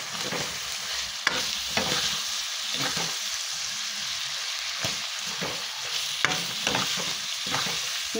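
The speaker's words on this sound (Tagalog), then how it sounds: "Naghalo-halo ko na lang yung mga guys. Sibuyas, bawang, kamatis." Onion, garlic and tomato sauté in a pan in a home kitchen, with a steady sizzle and repeated scraping strokes of stirring. It sounds close, with no talk.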